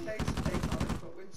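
Rapid automatic gunfire in a video game, a burst of about nine quick evenly spaced shots, loud and close, lasting about a second before cutting off.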